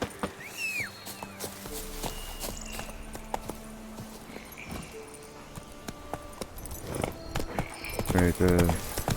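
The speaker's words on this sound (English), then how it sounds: "Oh, horse." Horse hooves clopping in The Witcher 3, a rhythmic run of clip-clop steps with a brief whinny and game effects, while someone talks over much of it.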